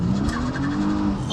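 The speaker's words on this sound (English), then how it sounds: "let's test our 0 to 60. Launch control ready." A 2019 Kia Stinger GTS with a turbo engine makes a launch-control start from a standstill, a loud, close engine roar rising in pitch with tire squeal and wheelspin throughout.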